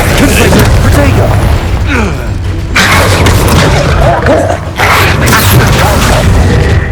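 Spell explosions in the Hogwarts Legacy video game, dense booming blasts and crashing bursts layered through a loud, continuous combat din with a brief lull midway, voices shouting over it.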